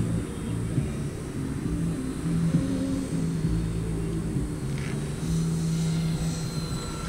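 An E-Flite EC-1500 Twin 1.5 m RC airplane flies at about quarter throttle, its twin electric propellers giving a continuous droning whine that shifts slightly in pitch, steady and moderately loud throughout.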